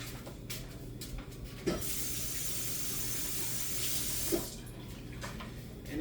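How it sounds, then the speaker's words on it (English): Tap water runs steadily into a kitchen sink while hands are rinsed, a continuous close hiss with a couple of soft splashes, no voices. "So let me rinse my hands."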